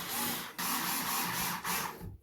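A smart dimmer switch being screwed into a wall box with a powered screwdriver gives a steady, loud, close whirring drone, briefly interrupted once partway through and again near the end before it stops.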